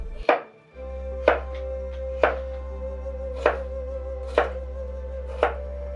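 A knife chops cucumber into thin sticks on a board, six crisp, evenly spaced taps about a second apart, close and clear over a steady low hum.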